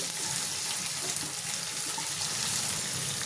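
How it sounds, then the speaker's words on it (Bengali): Ginger paste fries in a pan for a tengra fish curry, giving a soft, continuous sizzle and hiss close by with no break. "আদাটা একটু ভালো করে ভেজে নিতে হবে।"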